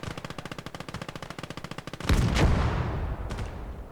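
Rapid machine gun bursts from a crew in the WWII strategy game Gates of Hell rattle in a fast, even rhythm for two seconds, then a heavy explosion booms and echoes, followed by a distant shot.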